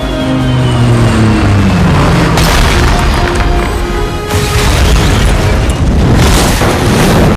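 In a film scene, a US fighter jet's missile strikes an aircraft: loud booming explosions with a descending whine, followed by roaring blasts and crashing debris, dense and continuous throughout.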